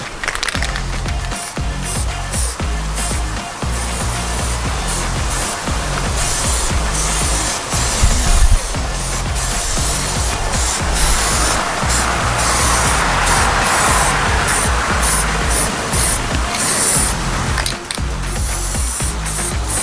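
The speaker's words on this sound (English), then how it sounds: "Get some kind of primer down there, at least a couple coats today." Primer is sprayed onto bare car metal around a classic car's windshield opening, a steady close hiss broken by short, rapid, irregular bursts throughout.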